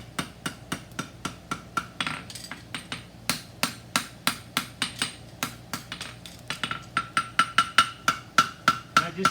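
Rapid hammer taps on a handmade shoe worked around a last, a steady run of sharp, close knocks about three or four per second, with the strikes growing brighter and louder toward the end.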